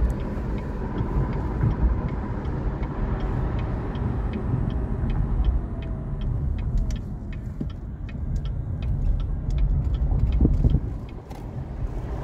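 A car drives along a road with a steady low road and engine rumble throughout, broad and continuous, with small clicks and faint bumps riding on top, no voices.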